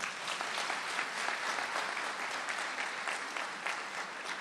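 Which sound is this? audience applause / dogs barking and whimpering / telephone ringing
audience applause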